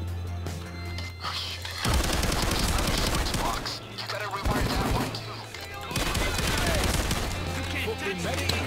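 Brothers Grimm 12G shotgun firing in a video game: dense bursts of loud, rapid shotgun blasts in several long volleys, separated by brief pauses with a low droning hum.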